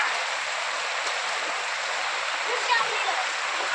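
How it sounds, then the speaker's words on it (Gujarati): Steady, dense rain pours down in Bagasara village in Amreli district at the start of the monsoon, a close, even hiss of falling water with scattered splashes. "જોઈ લો ભાઈ, લાઈવ વરસાદ ચાલુ."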